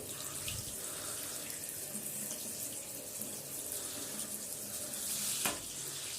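Water runs steadily from a tap while something is washed under it during feeding prep for a pet bearded dragon, a continuous close hiss with a brief knock near the end.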